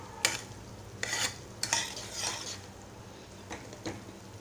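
Semolina roasting in a pan for sheera, stirred with a utensil: about seven short, gritty scraping strokes come in an uneven rhythm, close and moderately loud, with a soft sizzling background between them.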